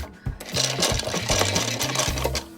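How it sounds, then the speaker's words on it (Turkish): A food processor grinding roasted almonds for almond paste, a close, rhythmic whirring motor that pulses in quick bursts with rattling from the nuts. "rondoyu çalıştırıyorum"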